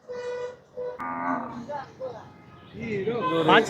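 Jallikattu bulls moo repeatedly at the Poigai cattle market, low drawn-out calls close by, with a crowd of voices and background chatter mixed in.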